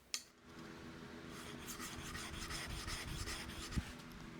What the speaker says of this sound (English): Notice how my thumbs are dragging on the diamond stone?